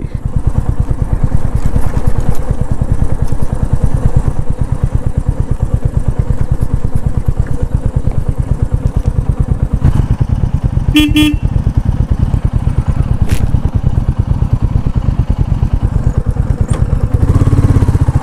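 A motorcycle engine runs close and loud with a steady, rapid thumping beat throughout, broken once by a short horn toot, near a waterfall trail in a green rural area.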